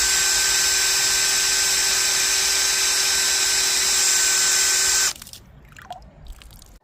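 A drill-powered water pump runs at maximum speed, giving a loud, steady high whine with a constant hum that cuts off abruptly after about five seconds, leaving faint clatter and water sounds.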